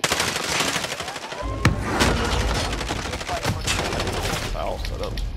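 Rapid SMG bursts from Call of Duty: Modern Warfare, loud and close, with dense automatic fire sustained across the whole stretch and a few sharper single cracks standing out.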